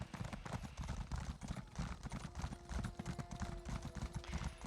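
Horse hooves clip-clop steadily in Elder Scrolls Online, a continuous quick galloping rhythm of soft thuds at low volume with a faint tonal hum underneath.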